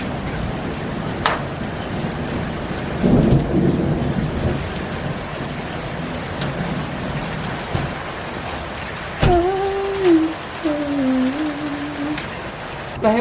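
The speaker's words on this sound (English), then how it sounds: "The hails aren't that big, the hail." Small pebble-sized hail drums steadily on a car's roof and body, a dense continuous patter heard from inside, with a brief heavier burst and a few low rumbles; quiet voices murmur under the clatter.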